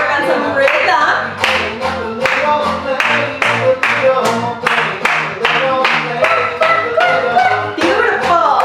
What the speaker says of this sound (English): Walk and clap to the music.